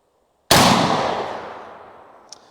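A 12 gauge shotgun slug fires at a steel plate target: one loud, sharp blast after half a second of silence, decaying slowly, then a faint distant metallic ping of the plate strike near the end.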